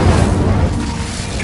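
A fire spell cast in Hogwarts Legacy erupts with a loud, close burst and whooshing rush, a short blast of flame that fills the moment before trailing off.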